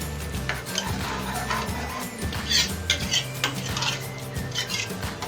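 Palak gosht simmering in cream is stirred in a cooking pot, with a spoon scraping and knocking against the pot in an uneven rhythm over a soft bubbling background. The sound is close and continuous, with no talking.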